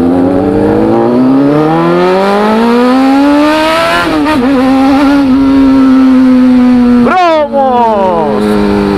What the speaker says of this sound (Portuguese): E o hornetão passando.